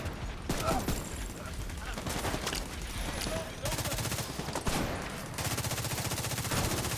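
Rapid bursts of automatic gunfire in a shooter video game, loud and close, coming in long rattling volleys with brief gaps, while a player's voice talks over the action.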